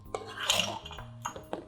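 A spoon scraping and clinking against a pot while cooked noodles are stirred into thick mac and cheese with spinach, a few quick metallic knocks.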